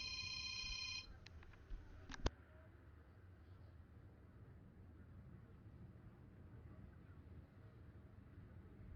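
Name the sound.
telephone ringing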